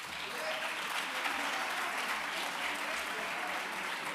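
Sustained audience applause at a journalism panel event in Málaga, welcoming a Sevillian guest; dense, steady clapping from a seated crowd, fairly even in level throughout with no speech over it.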